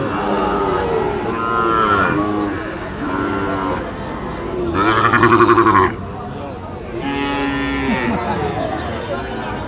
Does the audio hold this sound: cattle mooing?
yes